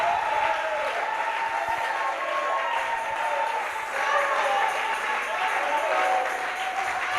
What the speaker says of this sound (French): Can we give a hand of clap?